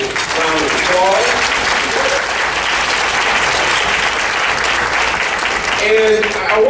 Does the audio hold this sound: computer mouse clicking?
no